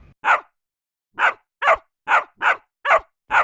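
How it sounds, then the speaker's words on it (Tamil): A dog barks in a series of seven sharp, close, loud barks, the first one isolated and the rest coming in a quicker, fairly even rhythm, with no voices. "நாய் பாரு ரொம்ப நேரமா கொலைச்சிட்டு இருக்கு பாரு"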